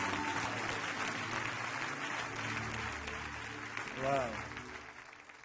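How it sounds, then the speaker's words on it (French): Applause from a church congregation fills the space, a steady clatter of clapping that carries on throughout, with people speaking and calling out over it. "Est-ce qu'on peut acclamer mieux que ça"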